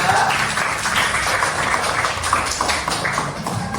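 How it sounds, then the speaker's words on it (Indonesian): Students in an Islamic religious education class clap for a group, a busy, fairly close patter of hands lasting a few seconds. "tepuk tangan untuk kelompok 3"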